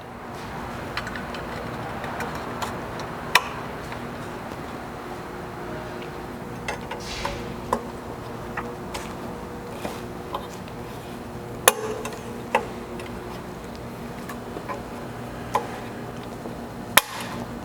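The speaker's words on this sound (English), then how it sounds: "press them straight in from the side until you hear them lock in place" Steady background hum with scattered sharp clicks and snaps, a few louder ones standing out, as M6 clip nuts are pressed into a Jeep JK Wrangler's rock slider cutouts and lock into place.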